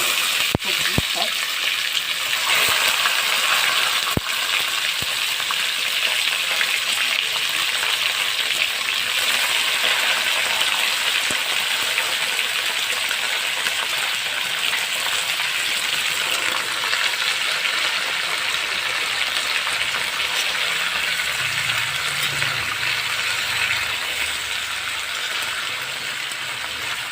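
Cut bottle gourd sizzling in a hot pan, a loud, steady, broadband hiss of frying that holds nearly unchanged throughout with no talking.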